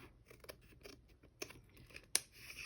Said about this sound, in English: And I'm going to cut right on that line.